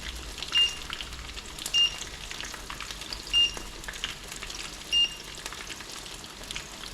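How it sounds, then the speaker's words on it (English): Béchamel sauce cooks in a pan with a faint, steady sizzle and soft bubbling, while four short electronic beeps sound at regular intervals in the background. "I'm going to start the béchamel sauce"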